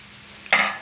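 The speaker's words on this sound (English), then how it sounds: "This also will take time to fry, so let this fry." Onions and chilies frying toward crispy golden-brown birista for dal gosht: quiet at first, then a sudden close burst of oil sizzle as the pan is stirred, with no talking.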